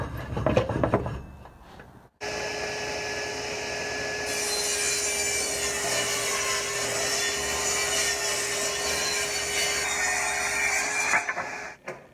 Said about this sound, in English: we're going to rip the 2x4s in half